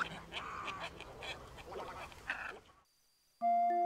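Water birds at the coastal ponds of Sinis in Sardinia give a run of loud, duck-like quacking calls, overlapping and fairly close, before a brief silence and an abrupt electronic tone.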